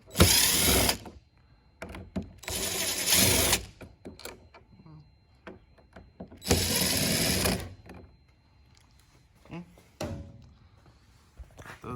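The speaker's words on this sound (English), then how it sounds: "So I'm going to go ahead and remove these 4 screws real quick." Power screwdriver whirring in bursts as screws come out of an RV keypad lock, three loud buzzing runs separated by clicks, taps and handling noises, with someone talking in between.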